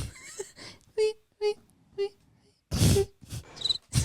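A person imitates cricket chirping with their voice: three short, evenly spaced chirps, followed by louder vocal noises and a bit of laughter.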